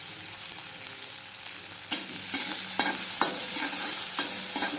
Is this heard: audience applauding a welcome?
no